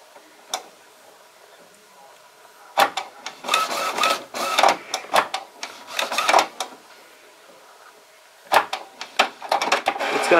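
An Epson WorkForce 2760 printer initializes after new cartridges go in, sending out bursts of whirring, clicking and ratcheting mechanical noise with short quiet gaps between them.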